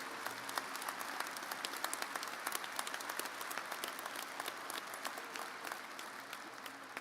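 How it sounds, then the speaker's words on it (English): A graduation audience at a university commencement breaks into steady, dense applause, many hands clapping at once in a continuous wash that holds its level for the full stretch without talk. "So give yourselves a round of applause for standing tall on this land and being amongst us here."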